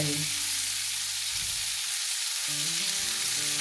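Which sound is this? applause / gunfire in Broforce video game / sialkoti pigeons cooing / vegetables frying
vegetables frying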